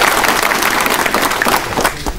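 Steady applause from a seated audience at a televised community gathering in Janakpur, dense continuous clapping filling the whole stretch, moderately loud and close, with no voices standing out.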